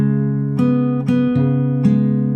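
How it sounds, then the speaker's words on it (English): Fingerstyle acoustic guitar plays a passage, a few plucked notes over a sustained open chord, soft and close with no voice. "So all together again, the whole portion on this chord sounds like this."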